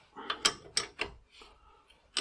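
Old Union bicycle getting its pedals replaced: a few sharp mechanical clicks and ratcheting knocks close up in quick succession, then a quieter stretch of faint rattling and scraping.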